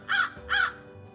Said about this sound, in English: the scary black crow would not let her pass